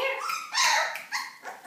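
Young black puppy whining and yipping in short, rising bursts from a corner of a whelping area, several cries in quick succession, fairly close and alone without talk.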